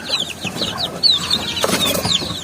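Native chickens and their chicks in a backyard flock chirp and peep repeatedly in high, quick calls, with soft clucks and a brief flutter of wings, close by and with no talking.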